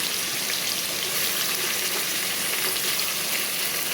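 Raw spice-coated fish pieces frying in a pan, a steady, close, loud sizzle with crackling throughout and no talking.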